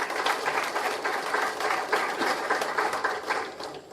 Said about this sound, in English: Have a big round of applause for their generosity and donation.